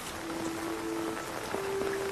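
Steady rain falling, a soft continuous patter and hiss throughout, with a faint tonal hum underneath.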